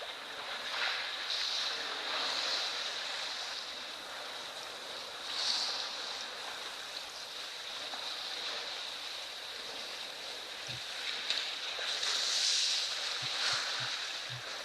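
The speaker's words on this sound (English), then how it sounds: "Elephants splashing in the water." Elephants splash and slosh in a waterhole, a continuous watery wash with occasional louder surges, moderately distant amid an open outdoor ambience.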